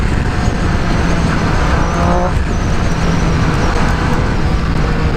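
A loud custom car exhaust roars steadily and close for the whole stretch, a dense, rough rumble with no break or fade, with no voices.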